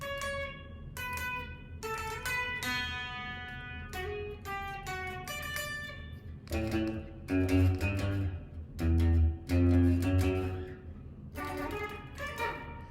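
Electric guitar plays the odd interlude riff from a song, a run of picked single notes and ringing chord stabs, loud and close, with heavier low strums in the second half and no voices.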